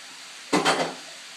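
Potatoes dropped into a hot pan with searing meat, a brief clatter of two quick impacts followed by a short sizzle that fades over a faint background hiss.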